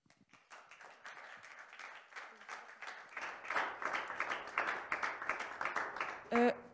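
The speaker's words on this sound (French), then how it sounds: "On tenait aussi du coup à applaudir nous aussi les autres participants qui ont gagné le prix, donc on vous applaudit." An audience at an award ceremony applauds, dense clapping that starts faint and swells into a sustained round, ending with a brief tonal sound.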